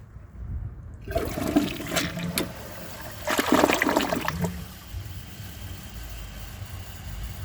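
A 2018 Delta Turner toilet flushes a washcloth down, with a loud rushing swirl of water building after a second, a second surge of gurgling drain, then a steady refill trickle.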